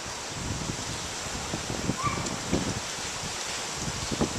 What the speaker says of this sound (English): You can see the wind's really blowing.